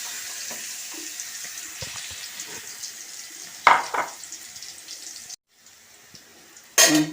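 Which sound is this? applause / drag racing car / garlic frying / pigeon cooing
garlic frying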